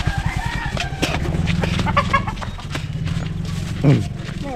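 A chicken clucks briefly amid nearby chatter, with a sharper squawk near the end.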